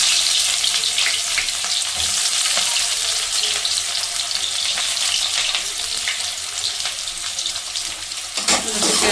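Onion frying in hot oil with cumin seeds for an aloo baingan sabzi, a loud, dense, unbroken sizzle close by.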